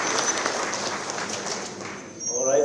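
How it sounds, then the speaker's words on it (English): A university anniversary celebration audience gives a round of applause, a fairly quiet patter of many hands clapping steadily for about two seconds before fading, with faint voices and a brief tonal sound at the end. "A round of applause as they receive this."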